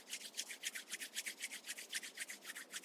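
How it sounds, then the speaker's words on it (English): Palms rubbed briskly against each other in a steady back-and-forth rhythm, a close, soft swishing friction that repeats about six times a second during a yoga breathing class, with no talking. "Start rubbing your both palms against each other."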